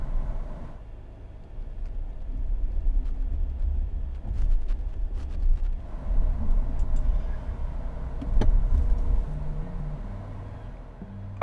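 Nissan Armada Pro-4X engine straining off-road, a low continuous rumble with wind buffeting and occasional knocks and clunks.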